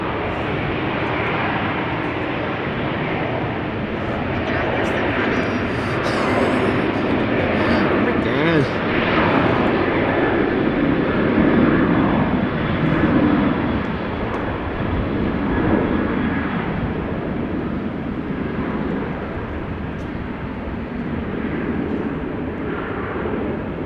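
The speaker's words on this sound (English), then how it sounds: "What a fascinating airplane." An airplane at Amsterdam Schiphol Airport gives a steady, loud engine roar that swells a little mid-way and stays broad and sustained throughout, with people talking over it.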